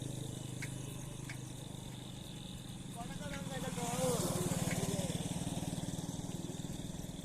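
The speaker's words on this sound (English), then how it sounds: "you can see the motorbike just crossed me" A motorbike engine swells as it passes close by, rising to a peak and fading, over a steady low engine hum.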